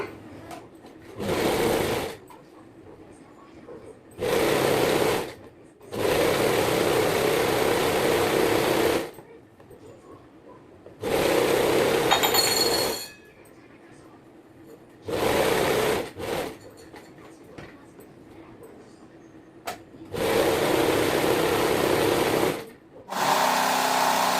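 Sewing machine stitching a nightsuit seam from one side across to the other, running in several sustained bursts of steady whirring separated by short pauses, close and fairly loud.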